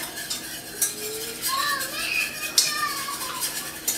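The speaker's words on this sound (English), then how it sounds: "Keep whisking it just to combine everything." A whisk scraping and clinking around a pan of Alfredo sauce for chicken fettuccine, with light metallic taps and swishes in an uneven rhythm, close and moderately loud, with no talking.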